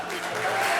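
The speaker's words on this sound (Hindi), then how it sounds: "रांझे के लिए जोरदार तालियां।" Studio audience applause during a televised Indian comedy show, a brief steady wash of clapping that stays even and fairly loud throughout.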